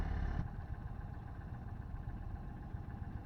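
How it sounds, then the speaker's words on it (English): An Indian Chief Bobber motorcycle's V-twin engine rumbles steadily with a low, throbbing exhaust pulse, close and moderately loud, with no talking. "the exhaust note actually sounds pretty good on this bike"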